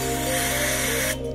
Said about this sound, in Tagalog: So spray na rin natin itong butas dito